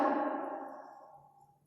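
A glass jar is placed over a lit candle in a classroom air experiment, giving a single ringing clink that fades away over about a second and a half.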